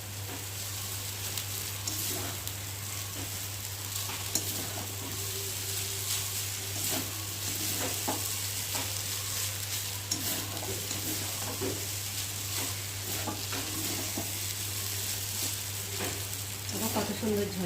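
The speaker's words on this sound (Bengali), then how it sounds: "দিয়ে এবার একটু ভালো করে নেড়ে দেবো।" Maggi noodles being stirred in a hot pan, a steady close sizzle broken by repeated scraping and clinking of the spatula against the metal, with a low hum underneath.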